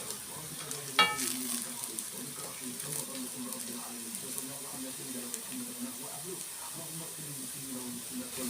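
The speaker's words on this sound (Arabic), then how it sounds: "اقلب في البصلة اهو" Onion fries and hisses in a pan while a spoon stirs it, giving a steady sizzle with a sharp clank near the start and scattered scraping strokes, close up and fairly quiet, with a voice murmuring softly underneath.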